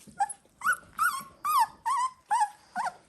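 Several young Dalmatian puppies, about twenty days old, whimper and yip in a run of six or seven short, high, rising cries with brief gaps, close by and fairly loud with no talking.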